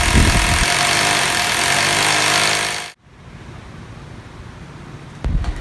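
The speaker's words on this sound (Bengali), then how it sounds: "এখন ড্রিল করছে" An electric drill bores into a wall at home, a loud grinding roar that runs for about three seconds and then stops abruptly, before a brief burst starts up again at the end.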